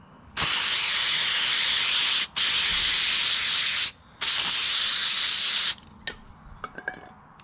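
CRC mass airflow sensor cleaner sprays from an aerosol can in three long, loud hissing bursts with short gaps between them, followed by a few faint clicks and handling noises.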